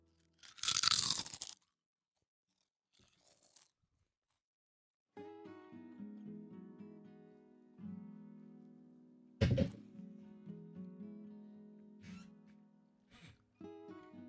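Loud close crunching of a snack being bitten, a burst at the start and another sharp crunch mid-clip, between stretches of music and brief silence, with no talk.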